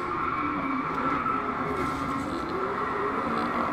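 A McLaren 650S supercar in the Driveclub racing game roars continuously at high revs, with a steady dense engine note and tire noise mixed in throughout, loud and close without a break.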